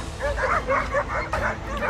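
A pack of dogs surrounding a leopard on a sandy beach bark and yelp in rapid, repeated bursts, close and fairly loud, with some whining between barks.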